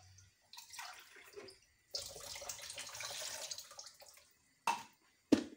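Water is poured into a blender jar to grind an avocado-substitute drink, coming as two pouring stretches with short quiet gaps between them, then brief splashes near the end.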